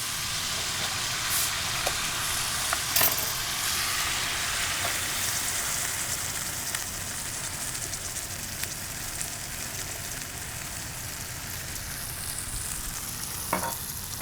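Coca-Cola poured into a sizzling pan of onions, garlic, jalapeno and sesame oil, a continuous loud hiss and bubbling with a few sharp clicks and pops, no talking.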